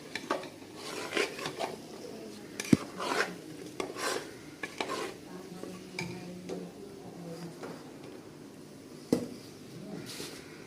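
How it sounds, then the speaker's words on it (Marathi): Lentil puran filling with jaggery is stirred in a pan, producing quiet scraping and rasping strokes with occasional sharp clinks of the spoon against metal, irregular and close. "गूळ घालून असं मस्त हलवायचं पुरण हे घातलं."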